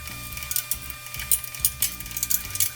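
A ratchet wrench clicks in quick uneven bursts while bolts are torqued down on the head of a Quincy QTS-5 air compressor, close and fairly loud, with no talking.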